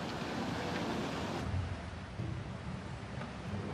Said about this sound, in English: Just 3 minutes, 15 seconds after it started, the torrent has reached the 3rd floor, over 8 meters high.